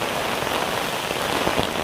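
Rain falls steadily and densely on surfaces during flooding, with a bridge nearby under water, a continuous close hiss with scattered individual drops.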